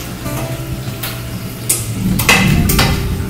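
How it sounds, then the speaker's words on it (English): Seasoned lasagna sauce stirred in a pot on the stove: close, scattered clinks and scrapes of a utensil against the pot, growing busier toward the end, with no talking. "we're gonna give that a mix"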